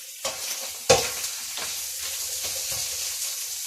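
Paneer frying in a pan is turned and stirred, giving several sharp scrapes and knocks of a utensil against the pan over a soft background sizzle.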